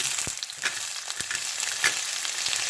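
Sliced onions sizzle in hot oil for a Malaysian shrimp sambal, a steady close frying hiss broken by a few sharp stirring clicks.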